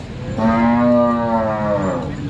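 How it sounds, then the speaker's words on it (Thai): A beef cow moos at a cattle market in Yasothon, Thailand, one loud, close, sustained low call lasting under two seconds over faint background noise. "วัวเนื้อ"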